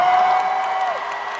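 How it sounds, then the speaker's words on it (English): Crowd at the D23 Expo cheering and applauding for Charlie Cox, a steady dense roar of many voices with a high whistle-like tone held through most of the moment. "Just cheer for Charlie Cox."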